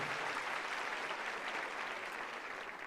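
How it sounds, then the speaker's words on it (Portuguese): Church congregation applauding during an evangelical service, a continuous wash of clapping from many people, fairly even and moderately distant, easing off slightly toward the end. "Dá uma salva de palmas a Ele."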